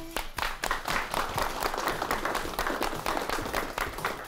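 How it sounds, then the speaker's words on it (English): Audience applause at a 2023 Arkansas Governor's Quiz Bowl Association ceremony: dense, sustained clapping from many hands, steady and fairly distant throughout with no break. "One more final round of applause for everybody"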